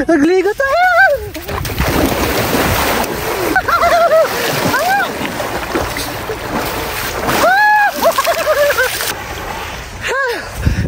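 People splash about while bathing in the sea at a beach with sand dunes, with near, repeated watery splashes under steady wind noise and excited voices and shouts throughout.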